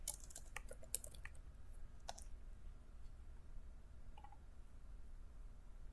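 Several quick clicks from a computer keyboard as a command is typed, short bursts of keystrokes clustered in the first couple of seconds, then a lone tap later, fairly faint over a low background hum.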